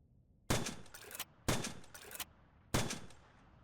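An MTC4 mortar fires three rounds outdoors, each a sharp loud blast with a short decaying tail, the last two about a second apart with a smaller echo-like thump trailing the first two.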